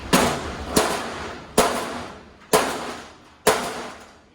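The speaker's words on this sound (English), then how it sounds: "I'm gonna try and hit these with a hammer" Five sharp metallic hammer blows on a rusted bolt on a 1955 Ford F100 truck, spaced about a second apart, each ringing briefly before the next strike.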